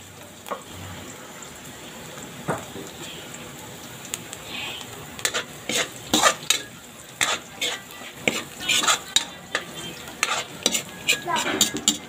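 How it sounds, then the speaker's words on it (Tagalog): Garlic and onion sautéing in a pan for pancit: a steady low sizzle with frequent scraping, clattering stirs against the pan, growing busier toward the end, with no talking. "Inuna natin yung bawang, sibuyas. Ayan, magigisa na po tayo."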